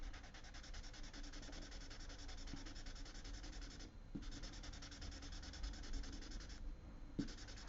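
A 3B graphite pencil shading on paper close up, a continuous soft scratchy rubbing with brief pauses between strokes, quiet and with no talking.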